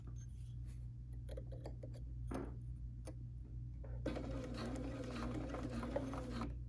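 A Bernina sewing machine takes its first few stitches: a steady mechanical hum with fine rapid ticking that grows louder and denser in the second half, heard close up with no talking.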